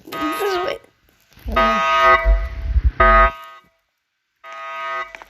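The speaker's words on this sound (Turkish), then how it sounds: "Alarmlar çalıyor." Electronic alarm tones in the Roblox game Brookhaven sound in repeated bursts, with brief gaps between them, fairly loud and close.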